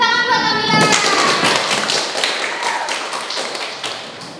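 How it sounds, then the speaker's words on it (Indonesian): Classroom of students applauding a classmate, a burst of dense, close clapping that starts abruptly and holds loud before tapering slightly, with faint young voices mixed in. "Tepuk tangan buat Nabila"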